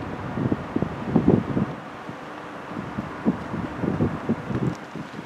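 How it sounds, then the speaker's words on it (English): Strong wind of about 10 to 15 miles per hour buffets the microphone outdoors in low, rumbling gusts that swell and fade unevenly, with a steady hiss underneath. "Strong wind blowing, it's about 10 to 15 mile an hour."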